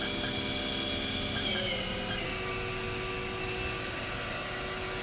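A 1997 Haas VF-4 CNC milling machine spindle runs at speed, giving a steady mechanical whine with a drop in pitch partway through, loud and continuous with no talking.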